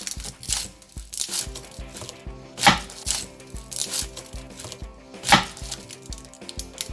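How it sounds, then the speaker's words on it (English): A knife chopping onions on a board for turkey stew, a steady run of close, crisp cuts with a few harder, louder knocks standing out, no talking. "I'm about to cut the onions"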